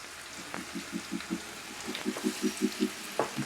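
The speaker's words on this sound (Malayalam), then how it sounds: "അതിലേക്ക് ഞാൻ നമ്മൾ മാറ്റി വെച്ചിരുന്ന കടച്ചക്ക ഇട്ട് കൊടുക്കുകയാണ്. കടച്ചക്ക ഫ്രൈ ചെയ്യാൻ വേണ്ടി ഇട്ട് കൊടുക്കാം." Breadfruit pieces fry in hot oil in a pan, giving a close, steady sizzle with a regular series of soft bubbling pops in a quick rhythm and a couple of sharper clinks, no voices.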